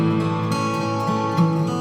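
Acoustic guitar chords drenched in a very long tube analog reverb, notes blurring into a dense sustained wash with smeared decays, steady and alone at moderate loudness.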